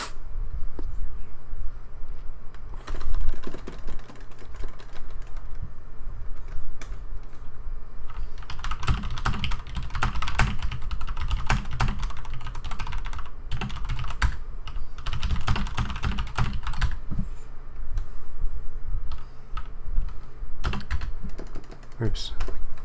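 Rapid typing on a PC keyboard with a faulty backspace key, dense bursts of clacking keystrokes that come and go in busy flurries over a steady hum, with some talking mixed in.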